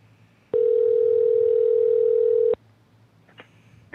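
A single steady telephone call tone sounds while a call is placed, a loud, clean hum lasting about two seconds, then it cuts off, leaving faint background noise and a brief click.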